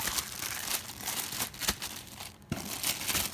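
Plastic bag packed with a fire alarm, screws and manual crinkles and crackles close up in irregular bursts, handled and rustled for a few seconds with no talking.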